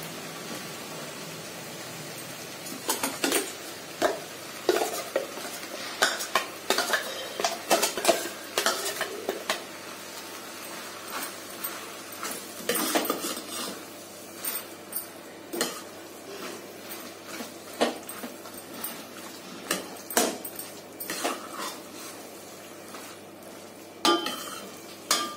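A spoon scrapes and clinks repeatedly against a tempering pan while ground masala is stirred into bitter gourd for a gravy, irregular close stirring knocks over a faint, low sizzle with no talking.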